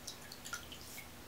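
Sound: shoe-cleaning brush dipped in water, dripping

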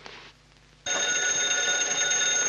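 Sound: telephone ringing

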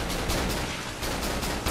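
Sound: pistol gunshots in the video game Cry of Fear

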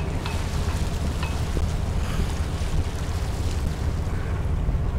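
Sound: wind on open water

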